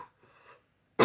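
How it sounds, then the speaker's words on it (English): A single sharp cough, loud and close, caused by incense smoke, arriving abruptly after a moment of faint breathing and quiet. "I'm going to cough now."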